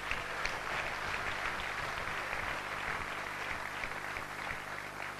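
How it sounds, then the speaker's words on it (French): Sustained applause from a large audience at a 70th birthday celebration for a reverend, steady, dense clapping filling the whole stretch without a break, fairly close and loud. "Nous allons applaudir pour nous tous parce que nous avons fait un sacrifice."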